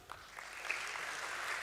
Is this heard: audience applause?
yes